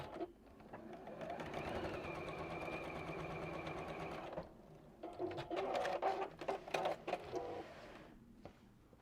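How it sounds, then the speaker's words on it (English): A sewing machine runs a line of top stitching in a steady whir, then stops and gives several short, uneven bursts, close and fairly quiet. "And fold that back and top stitch."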